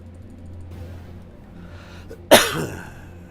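A single sharp sneeze bursts out at close range against a quiet background hum, a brief loud burst that trails off quickly.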